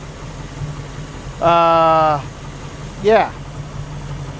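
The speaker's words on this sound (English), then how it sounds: "Oil pressure at hot idle is about 25 right now, which is fine for an LT1" An LT1 V8 idles hot in a 1961 Rambler frame-swap project car, a steady low drone running throughout while a person speaks briefly and makes a short vocal sound over it.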